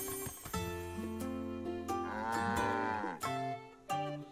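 Cattle mooing in The Legend of Zelda: Echoes of Wisdom, a few drawn-out bellowing moos in close succession, clear and alone with no talking.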